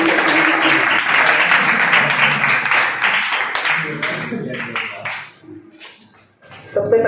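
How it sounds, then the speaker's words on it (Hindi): An audience claps loudly and steadily at a school Independence Day event, then the applause thins out and fades over several seconds, ending with a brief sound at the close. "जोरदार तालियां उनके लिए।"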